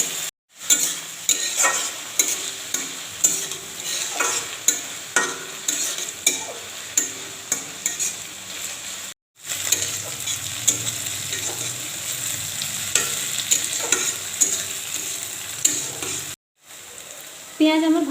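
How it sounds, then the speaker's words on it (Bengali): Chopped onions fry with a steady sizzle in a pan for chicken potato curry, with a spoon scraping and stirring in regular strokes throughout and brief pauses in between. "একটু পেঁয়াজটাকে ভাজা ভাজা হতে দেবো।"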